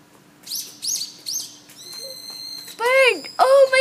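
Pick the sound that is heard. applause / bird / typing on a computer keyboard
bird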